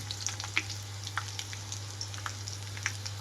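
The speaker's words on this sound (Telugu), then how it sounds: "ఇప్పుడు ఇందులోకి కట్ చేసి పెట్టుకున్న ఉల్లిపాయలు అలాగే పచ్చిమిరపకాయలు కూడా వేస్తున్నాను" Onions and green chillies fry in tempering oil with a continuous crackling sizzle and scattered sharp pops. A steady low hum runs beneath it.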